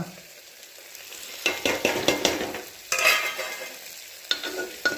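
Chili powder, turmeric, masala and salt stirred into soybean chunk khichdi in a pan, with bursts of spoon scraping and clattering over a soft sizzle, coming in uneven strokes, no voices.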